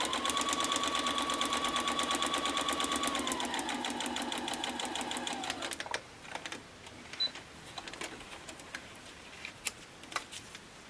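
A sewing machine stitches quilt fabric onto a paper pattern in a fast, steady whir of needle ticks with a falling motor tone, then stops, leaving scattered soft handling clicks.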